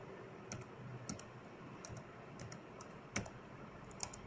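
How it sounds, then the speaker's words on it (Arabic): Keystrokes on a computer keyboard as a name is typed into a running program, a quiet, irregular series of light clicks with a few sharper taps, alone with no talk. "معلش اكتب enter your name مصطفى"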